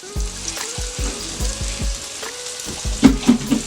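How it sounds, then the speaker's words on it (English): Smoked sausage, split lengthwise and laid down on a hot grill, sizzles and crackles steadily up close, with a few sharper pops toward the end. "good old smoked sausage, just throw it right down on the grill"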